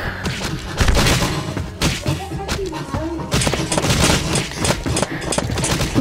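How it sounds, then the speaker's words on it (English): Dense, rapid bursts of nail gun fire in the Drunkn Bar Fight game, loud and continuous, with clattering impacts layered over a busy, noisy background. "Nail gun."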